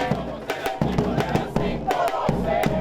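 Soccer supporters led by a capo chant and sing together in a loud, rhythmic crowd, voices rising in steady pulses with drum-like thumps underneath.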